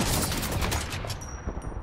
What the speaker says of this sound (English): Hit the guy that was shooting at you.